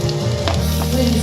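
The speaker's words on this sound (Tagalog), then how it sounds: "Gigisa na natin ang ating bawang" Garlic sautéing in a hot pan with sauce, giving a steady, close sizzle and crackle that runs through the whole short moment with no voices.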